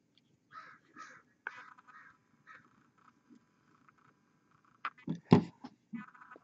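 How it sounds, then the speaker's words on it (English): Faint crow caws repeat in a loose series at a distance, followed by a cluster of louder, harsher calls near the end. "That cawing sound that may or may not be coming through,"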